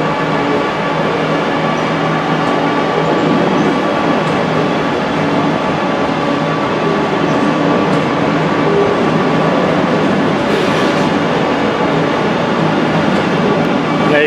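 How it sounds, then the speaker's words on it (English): A West Midlands Railway electric unit on the Redditch service passes through a Birmingham station, producing a loud continuous rumble and hum with a steady rolling texture and a brief hiss near the end. "323222 with the West Midlands Railway Service to Redditch."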